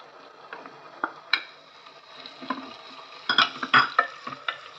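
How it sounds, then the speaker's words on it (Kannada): Onions fry in a pan for a broken wheat breakfast, with soft sizzling under scattered spatula scrapes and clacks against the pan, close and moderately loud. "ಈರುಳ್ಳಿ ಸ್ವಲ್ಪ ಚೆನ್ನಾಗಿ ಫ್ರೈ ಆಗಬೇಕು"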